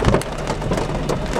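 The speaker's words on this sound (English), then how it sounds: "There's hail. Hail." Hail falling during a tornadic storm in eastern Colorado, a dense, steady rattle of ice striking surfaces close by, with a low rumble of wind beneath and no voices.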